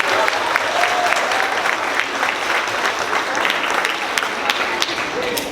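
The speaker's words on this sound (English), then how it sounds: "So one more round of applause for these 5th graders" Sustained applause from an elementary school audience for 5th graders at a grade celebration, dense clapping with occasional sharper individual claps and faint voices, steady throughout.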